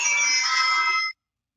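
An iPhone rings with a bright electronic tone that lasts about a second, fairly loud and steady, then cuts off abruptly into silence.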